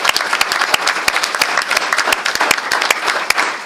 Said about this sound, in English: So let's give Matt a round of applause back there